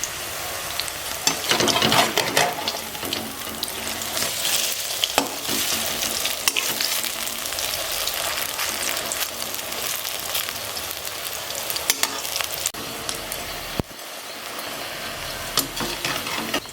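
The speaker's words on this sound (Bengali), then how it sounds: "মাখিয়ে নিয়েছি, এখন তেলে ছেড়ে দিচ্ছি।" Cabbage chops deep frying in hot oil give a steady, dense sizzle and crackle throughout, with occasional louder pops and bursts of bubbling; no voices are heard.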